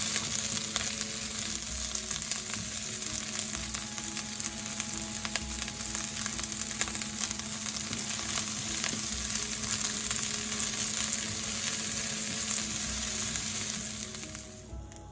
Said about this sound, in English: So I have 1 medium-sized onion. I'm just going to brown it up quick.